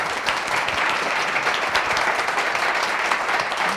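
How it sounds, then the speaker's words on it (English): An audience at a meetup claps for a speaker in a full burst of applause, with many hands overlapping into a dense, steady patter that holds throughout. "Let's get a round of applause for Jess Dale."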